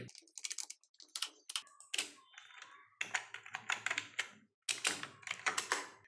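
Close keystrokes on a computer keyboard come in quick clattering runs broken by short pauses, as someone types out HTML code, with no talk.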